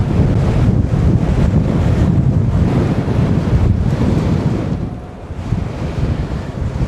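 Steady, heavy wind buffets the microphone in a loud low rumble throughout, with no voices, easing briefly near the end before gusting again.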